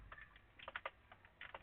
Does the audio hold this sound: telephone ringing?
no